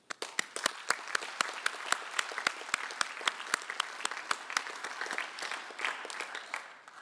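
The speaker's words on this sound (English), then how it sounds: "Let's applaud him for the tremendous amount of voluntary work he has put in these" Applause for a speaker after a lecture, a small audience clapping steadily with distinct individual claps at an even rhythm, sustained for several seconds, moderately close with no talking.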